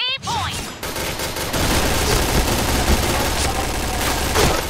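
Dense, continuous automatic gunfire from the Point Blank shooter game, loud and sustained after a brief opening tone, with some speech mixed in.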